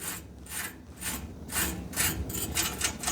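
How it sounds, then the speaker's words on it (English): Gentle scrubbing on the pilot assembly of a gas fireplace, a close, rhythmic rasping rub repeated in several short strokes with brief pauses between them, no voices over it. "you can lightly, gently do some scrubbing of the actual pilot system"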